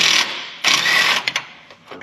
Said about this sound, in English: We just got to undo this bolt.